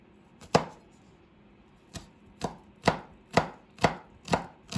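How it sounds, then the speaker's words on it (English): A knife chopping ginger and garlic on a board for a vegetable stir fry: about nine sharp, close strikes in a slow, fairly even rhythm, alone with no voices. "What we have to put in is some chopped ginger and garlic"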